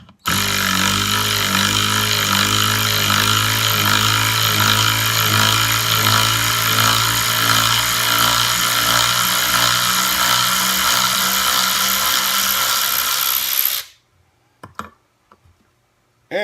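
A Kimo 12-volt cordless ratchet backs a screw out of a block of wood, giving a loud, steady motor whine with clicking for about fourteen seconds before cutting off abruptly into near silence.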